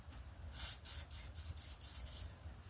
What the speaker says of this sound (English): I'm going to spray some WD-40 or lubricant in here to free up this cable